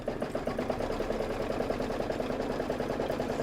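A sewing machine runs a quilting stitch on a Kimberbell Cuties table topper, its needle hammering in a steady, fast, even rhythm that carries on without a break, close and alone with no talk.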